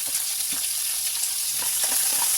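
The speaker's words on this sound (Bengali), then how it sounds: "তেলটা গরম হয়ে এসছে। এবারে দিয়ে দিচ্ছি আমি পেঁয়াজ, কেটে রাখা পেঁয়াজগুলি।" Chopped onions frying in hot mustard oil in a pan, a soft continuous sizzle with faint crackles, heard alone at low volume.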